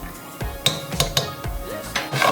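A spoon stirs cumin into browned meat in a pan, giving repeated scraping clinks against the metal at an uneven rhythm, with a faint sizzle underneath.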